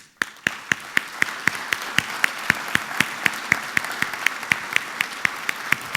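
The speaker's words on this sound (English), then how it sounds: "Let us make welcome with applause the Premier of the Cayman Islands" A conference crowd applauds to welcome the Premier of the Cayman Islands to the stage at the Fidelity CEO 2016 event. The claps fall in a steady, evenly spaced rhythm over a soft wash of background clapping, with no one speaking.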